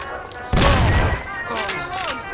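Gunfire in Mafia: The City of Lost Heaven, a sudden loud volley of shots followed by shouting voices and further distant pops.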